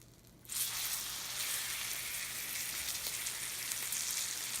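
A New York strip steak hits a hot pan of melted butter and oil, bursting into a loud, steady sizzle that continues evenly after a brief quiet start.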